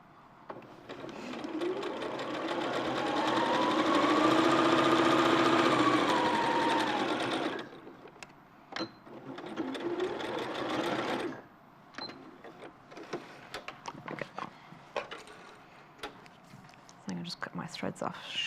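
A sewing machine stitching a quilt whirs in one loud, continuous run for several seconds, stops, then runs again in a shorter burst, followed by clicks and handling noises while people talk.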